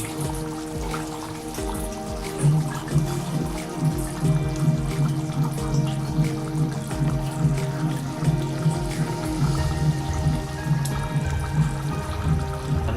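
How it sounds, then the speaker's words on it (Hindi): Water pours steadily into a cooking pot for bean stew broth, a continuous gurgling fill with a bubbling, rising tone that runs throughout without talk. "ये देखिए मैं इसके अंदर पानी को शोरबे के लिए"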